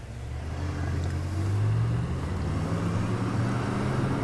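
A BMW M5 and a Mercedes CLS 63 AMG with performance package race from 50 km/h, a deep engine roar building and rising in pitch under steady wind rush, loud and continuous.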